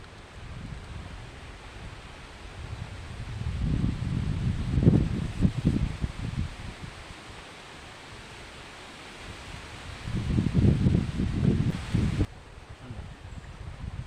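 Wind gusts rustle through leaves in two swelling bursts, loudest in the middle and near the end, over a steady airy hiss.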